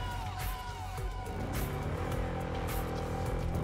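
A car revs and pulls away from a standing start in Cyberpunk 2077, the engine note climbing steadily with a brief tire squeal, loud and close, with no speech.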